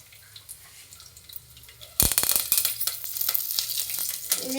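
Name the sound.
crushed garlic, mustard seeds and chilli sizzling in oil in a pan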